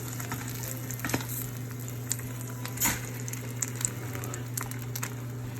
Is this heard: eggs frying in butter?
yes